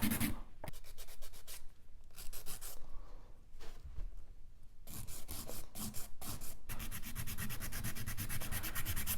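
A nail file held flat rasps across a gel nail in quick back-and-forth strokes, close and scratchy, with brief pauses between bursts and no voices.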